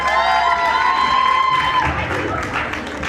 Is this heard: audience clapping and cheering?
yes